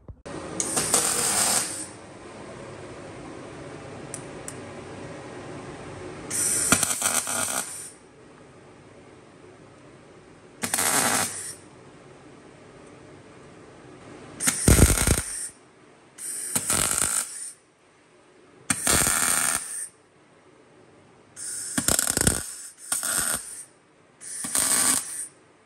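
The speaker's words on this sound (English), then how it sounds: "the next thing you've got to do is weld that into the middle of the wheel" Welding a centring disc into the middle of a wheel on an FX32 taxi, with short bursts of crackling, hissing arc welding tacks between quiet gaps, several of them in quick succession near the end, close and fairly loud.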